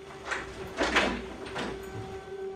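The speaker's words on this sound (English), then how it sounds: "Second sound sounds like someone trying to move the door." A door being moved or rattled, played back from a recording made during a ghost investigation: several short scraping, knocking bursts over a faint steady hum, no voices.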